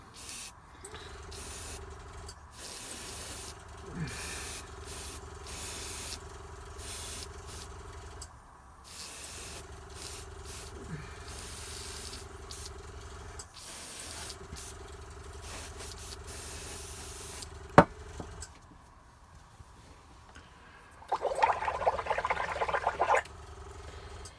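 An airbrush sprays varnish onto a Blood Angel Librarian miniature in short repeated bursts of airy hiss separated by brief pauses, close and fairly quiet, with a sharp tap near the end followed by a louder burst.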